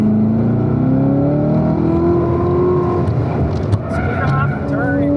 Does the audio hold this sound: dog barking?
no